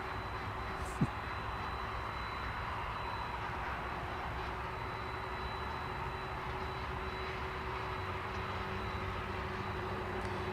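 A steady, broad roar of an airliner arriving from Aguascalientes at DFW Airport, heard from a distance as a constant engine rumble with a faint tonal whine running through it and no talking.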